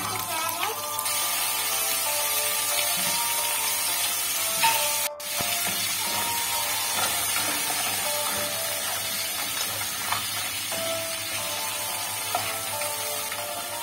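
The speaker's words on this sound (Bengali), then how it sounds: "এর মধ্যে আমি এবার এগুলো দিয়ে হালকা করে একটু ভেজে নেব।" Crab pieces frying in hot oil for a village-style spicy crab curry, making a steady, close, hissing sizzle that stays fairly even throughout.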